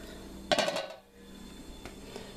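A homebrew kettle lid being handled gives a sharp metallic clatter and a short ringing rattle, followed by quieter occasional clinks close by.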